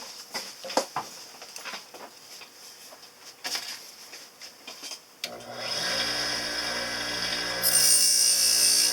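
A dental handpiece trims an acrylic partial denture: scattered scraping and handling noises give way to a steady, high-pitched motor whine that starts abruptly and holds, rising in pitch near the end.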